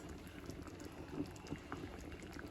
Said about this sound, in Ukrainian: І варю суп.